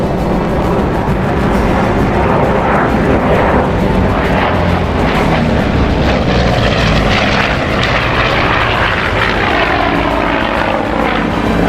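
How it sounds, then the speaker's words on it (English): An F7F aircraft makes a low, high-speed pass in a Roblox airshow game, a loud, continuous roaring propeller drone that swells and shifts in pitch as it goes by, with no talk over it. "The F7F in the low altitude high speed pass."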